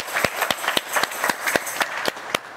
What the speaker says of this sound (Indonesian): Kasih tepuk tangannya dong buat Pak Imran.